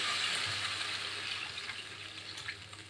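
Water is poured briefly into a cooking pan of fish curry with potatoes, a soft, faint splashing trickle heard alone.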